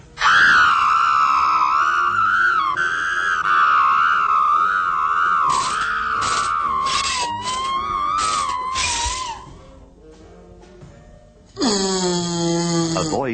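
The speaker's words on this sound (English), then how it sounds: "The screaming action." A screaming sound effect: a long, loud, wavering scream with a processed, distorted edge runs for several seconds, breaks off into a brief lull, then a second rising scream bursts in near the end.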